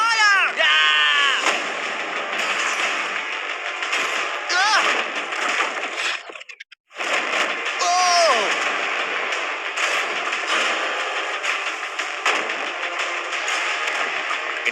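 Repeated shots fired at a steel shipping container holding cash, loud bursts of impact and gunfire across the span with a brief silent gap midway, excited voices talking over the noise.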